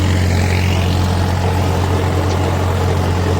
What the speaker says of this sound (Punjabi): ਸੁਪਰ ਸੀਡਰ ਜੋੜਦੇ ਬਾਈ ਖੇਤ ਦਾ ਟਰੈਕਟਰ